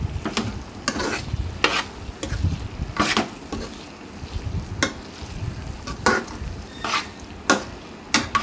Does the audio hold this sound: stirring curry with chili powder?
yes